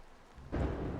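In the video game Undead Citadel, rain and thunder swell suddenly into a dense, heavy roar of downpour with a low rumble, filling the space close by.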